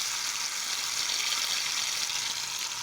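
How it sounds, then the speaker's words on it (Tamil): Marinated Chettinad masala fish frying in hot oil in a pan, a steady bright crackling sizzle that holds at an even level throughout, with no talking. "இப்போ வந்துட்டு ஒரு பாத்திரத்தில் எண்ணெயை காய வச்சுட்டு சட்டியில் போட்டு பொரிச்சு எடுத்துக்கலாம்"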